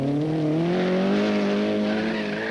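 A car at the 1968 Finland rally skids with its front wheels locked, giving a loud, sustained tire squeal with a wavering pitch over engine rumble.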